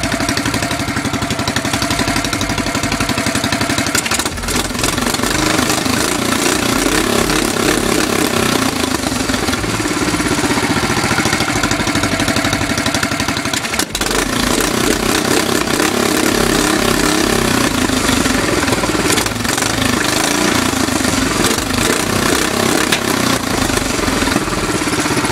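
A restored Manco Dingo engine runs steadily for the whole stretch, a loud, close, continuous mechanical drone with a fairly even idle and a slight dip and surge partway through, with no talking over it.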